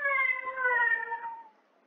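A single AI-synthesized cat meow made with the NSynth neural synthesizer, heard alone: a clear, fairly loud tonal cry that slides slowly downward over about a second and a half, then cuts off into near silence.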